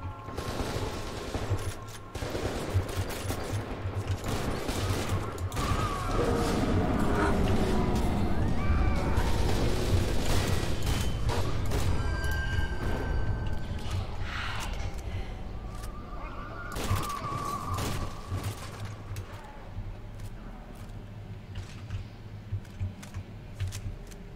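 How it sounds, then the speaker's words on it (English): Automatic shotgun fire in F.E.A.R. 2, a rapid run of heavy blasts under sustained loud combat noise, with scattered sharper shots and clatter continuing throughout. "was that an automatic shotgun?"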